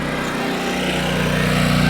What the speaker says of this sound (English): older guys riding around on riding lawnmowers as if it's a go-kart